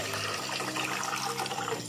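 Water streams steadily into a pot of radish sambar with cooked lentils and tamarind, a close, continuous splashing pour that lasts the whole moment.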